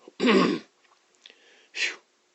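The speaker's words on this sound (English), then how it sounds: "Achoo!" A single sharp human sneeze, a loud explosive burst followed by a brief quieter breath and a second shorter exhale, heard close and alone.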